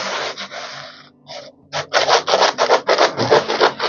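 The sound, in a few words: scraper scraping paint overspray off a wall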